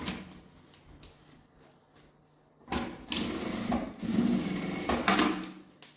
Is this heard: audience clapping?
no